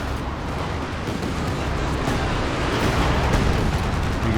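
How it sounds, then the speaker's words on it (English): WS-35 rocket artillery strikes in Company of Heroes 2, heard as a dense, continuous roar of overlapping explosions and rumble that swells slightly toward the end, with no clear gaps between impacts. "Big damage from the WS-35s."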